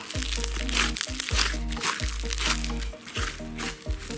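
Thick, crunchy slime squeezed and pressed in repeated bursts, a crackly popping texture close up, with no talking.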